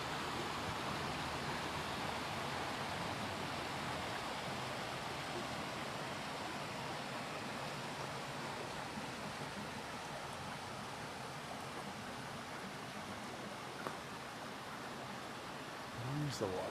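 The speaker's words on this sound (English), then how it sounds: "There's the waterfall." Waterfall on a river, a steady broadband roar of rushing water that fills the whole clip at constant loudness, with no voices over it.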